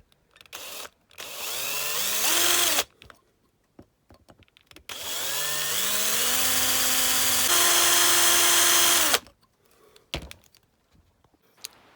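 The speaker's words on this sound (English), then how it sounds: "we're just going to actually drill the post before we put it in the car stick" A power drill whirs in two long bursts, its pitch climbing as it spins up and bites into the posts of a Matchbox diecast truck, separated by brief pauses and small knocks.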